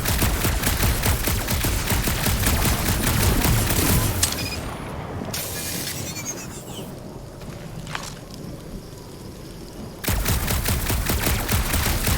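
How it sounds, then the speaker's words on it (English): Gunfire from the video game Marvel's Guardians of the Galaxy on PC: a dense, loud fusillade with continuous rapid shots that breaks off into a quieter stretch of wind and ambience, then resumes abruptly near the end. "Shooting your way out of every problem again, Peter?"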